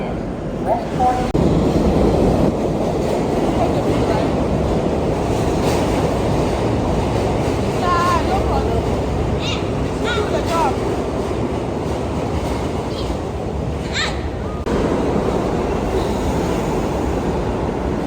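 A New York City subway train rumbles steadily throughout, loud and close, with occasional squeals and brief voices mixed in.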